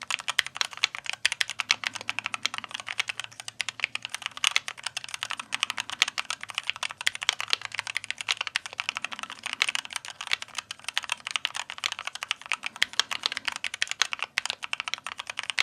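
Soft, rapid keystrokes on a keyboard with Gateron Lekker magnetic switches, a continuous muted clatter of keys pressed at an even typing pace, close and fairly quiet.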